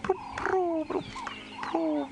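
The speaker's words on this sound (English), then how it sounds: "which is the ring-necked dove, or the Cape turtle dove it used to be known as" A ring-necked dove (Cape turtle dove) gives repeated rhythmic cooing calls, several short phrases in a row, fairly close and clear against a quiet background.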